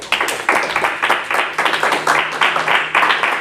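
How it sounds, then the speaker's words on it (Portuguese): Church congregation clapping in praise: a loud, close burst of hand claps with a quick, rhythmic, slightly uneven beat that continues without pause throughout. "Salva de palmas para o Senhor."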